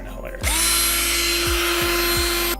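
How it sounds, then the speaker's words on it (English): A power drill fitted with a mixing attachment whirs steadily as it stirs a batch of homemade moisturizer, starting abruptly and running loud and close for about two seconds with a few brief dips in speed before cutting off. "I had to use my power drill and put the attachment in it"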